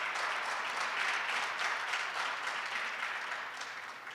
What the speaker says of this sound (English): Would you give her a round of applause, please?